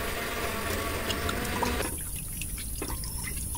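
Water drains from 1.5 kg of washed beef in a kitchen, a steady faint watery hiss and trickle that thins out partway through.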